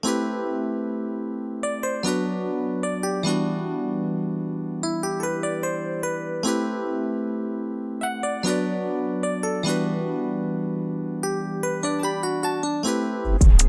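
A pluggnb-style beat: a synth melody plays over a steady backing track, with repeated notes and sliding bass tones forming a complete, continuous musical loop, no voices.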